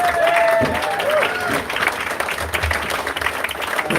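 Sustained crowd applause at a political potluck dinner, many people clapping at a steady level, with a short tonal voice or whistle-like sound near the start and light chatter underneath.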